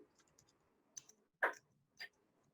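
Light clicking of a computer keyboard as numbers are typed into an Excel sheet, a few soft scattered taps followed by three sharper, louder key presses spaced apart in a quiet room.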